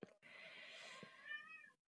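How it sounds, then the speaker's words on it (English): A rescued cat, nicknamed for the bridge where it was found, gives one drawn-out meow in the background, faint and fairly close, with a brief muffled noise at either end. "And there's the cat that you also rescued."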